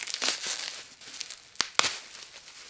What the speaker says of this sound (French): lui on va le déballer